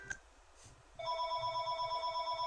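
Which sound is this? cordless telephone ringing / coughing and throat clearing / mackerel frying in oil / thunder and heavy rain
cordless telephone ringing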